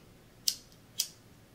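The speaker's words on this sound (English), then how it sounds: "I'm just going to light some incense real quick" Two quick, sharp scrapes of a match or lighter being struck to light incense, about half a second apart, close and fairly faint against a quiet room.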